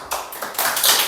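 A few quick, sharp hand claps in a small classroom, close and bright, coming in short uneven bursts.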